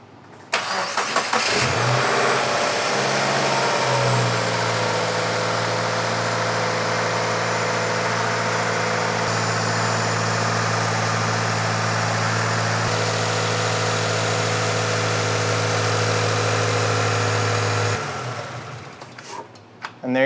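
2016 Subaru WRX with an FA engine and a newly installed serpentine belt cranks and fires up, then settles into a steady, close idle that runs for about fifteen seconds before cutting off.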